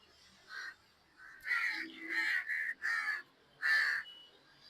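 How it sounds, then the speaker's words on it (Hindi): Several crows caw overhead in a garden, a series of about six harsh calls in irregular bursts, fairly clear against a quiet background with no talk. "ऊपर कौवे भी इंतजार में"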